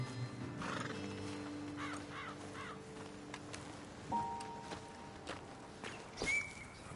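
Horses in the video game Red Dead Redemption 2 whinny and snort several times over slow hoof clops and footsteps, heard fairly close against a quiet outdoor ambience with no talk.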